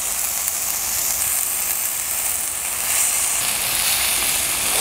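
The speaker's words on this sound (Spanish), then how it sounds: "Yo se la voy a agregar de frente al wok." Salchicha huachana sausage hitting a hot wok, a bright steady sizzle and hiss that swells slightly toward the end, close and loud with no talking.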